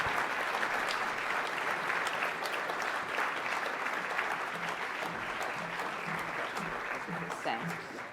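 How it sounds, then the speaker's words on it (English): A crowd at a charity awards celebration and fundraiser gives a sustained round of applause, dense even clapping that continues throughout with voices talking over it. "let's get a big round of applause"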